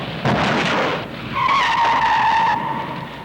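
A Fiat 124 family car skidding during stunt driving in an old advertisement: a loud rushing slide followed by a long, steady, high tire squeal lasting over a second, with no voices.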